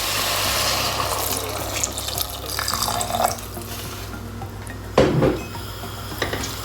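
Water poured into a pan of garlic soup on the stove, a running splash over faint sizzling, with a brief clatter of the pan midway.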